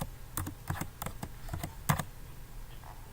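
Keys tapped on a computer keyboard while entering a word in all capitals for a birthday banner design, about ten separate close clicks in an uneven rhythm with a pause near the end.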